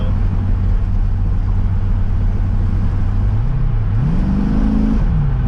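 A Chevrolet C6 Corvette engine drones steadily while driving, then revs up with pitch rising and falling as it accelerates, loud and close from inside the car, with no talking.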